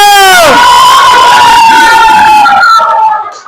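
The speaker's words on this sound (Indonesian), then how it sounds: "Tepuk tangan dulu untuk kelompok 1." A fifth-grade class of children cheers loudly in unison for a group called up front, a sustained sung shout that falls off at the end.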